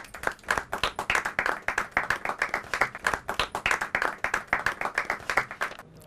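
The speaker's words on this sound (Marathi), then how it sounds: "एकदा जोरदार टाळ्या त्यांच्यासाठी." A crowd at the Zee 24 Taas Eco Friendly Award 2021 show in Mumbai claps for an award winner, sharp, close hand claps falling into a steady rhythmic beat that carries on without a break for six seconds.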